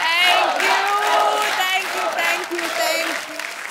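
Studio audience on a Hindi comedy talk show applauds and cheers as a Bollywood actress is welcomed, loud sustained clapping with whoops and a sung or musical tone running underneath.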